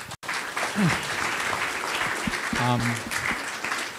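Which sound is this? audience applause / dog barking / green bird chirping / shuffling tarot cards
audience applause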